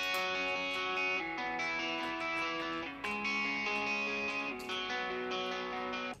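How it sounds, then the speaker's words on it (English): Sustained distorted electric guitar chords with a thick, saturated tone, changing chords every second or so over a dense full mix. "for the guitars, it's basically the same one as the verse with just"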